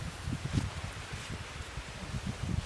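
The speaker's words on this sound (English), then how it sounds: "You got a little bit of a wind." Outdoor wind gusting against the microphone with leaves rustling, a steady low rumble and rustle with irregular gusts throughout, no talking.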